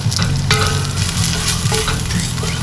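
Onions and ginger strips frying together in hot oil for chicken tinola soup, a loud, close sizzle with spatula scrapes and stirring clatter, no voices.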